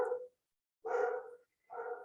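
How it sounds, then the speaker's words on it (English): A house dog barks at a delivery at the front door, three distinct barks heard indoors at moderate distance, spaced apart with silence between them. "that's my dog's going nuts until he leaves"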